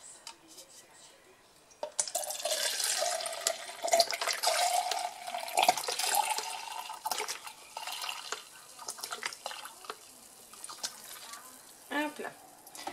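White vinegar is poured from a small measuring cup into a 750 ml jar for a homemade cleaner, making a steady splashing, filling trickle at close range after a quiet start.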